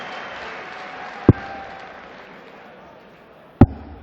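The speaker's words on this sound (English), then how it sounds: "they're cheering Alan Norris right now because it's 1 apiece" Darts crowd at the 2017 European Darts Grand Prix applauding and cheering in a steady wash of noise, broken by two sharp loud bangs, with a commentator talking over it.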